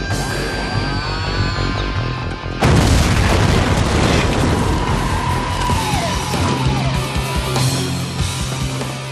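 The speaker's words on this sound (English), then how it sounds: "Did you see it explode?" A heavy explosion booms out as a target is struck during F-18 military pilot training in Canada, a loud sudden blast followed by a long rumbling roar and crackling debris that slowly fades.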